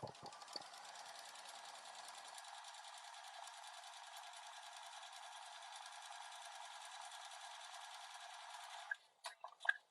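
A sewing machine stitches a quilt block, its fast, even motor whir running steadily for most of the stretch, close and moderately quiet, then stopping with a few clicks and handling knocks at the end.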